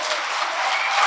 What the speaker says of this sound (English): I would give them a round of applause for all the support that they have given us